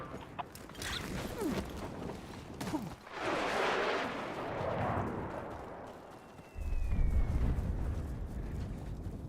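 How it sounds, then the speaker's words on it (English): Airstrike blasts rumble through a Battlefield 6 battle royale match, a heavy roaring explosion swelling in the middle, then a deep low rumble hitting loud near the end amid mechanical clanks and creaks; no talking. "You are danger close to an airstrike."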